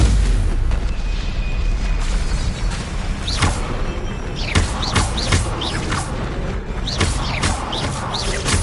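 Repeated fiery blasts of the Incendio spell in Hogwarts Legacy erupt over a dense, loud combat din, several whooshing bursts landing one after another across the scene.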